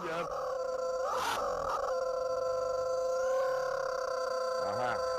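Rubber chickens fitted to a car's exhaust squawk and honk in bursts, shrill cluck-like squeals rising over a steady engine hum, with a voice briefly talking amid the noise.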